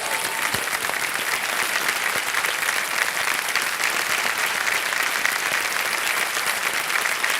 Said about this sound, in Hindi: आप तालियां बज जाएं इनके लिए।